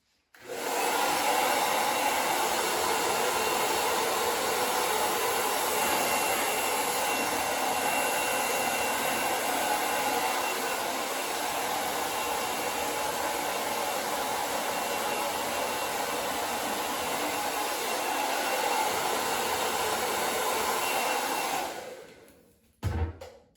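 A hair dryer blows continuously for over twenty seconds while styling a beard, a loud, close, even whooshing roar that cuts off abruptly at the end.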